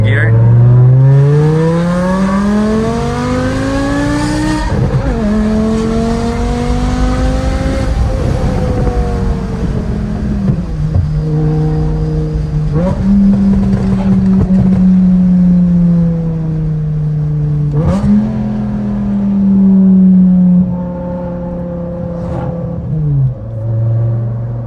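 A BMW E60 M5 fitted with a Dinan throttle booster pulls hard in second gear, its engine note climbing steeply through repeated upshift-like drops, loud and close, with a voice talking over parts of the run.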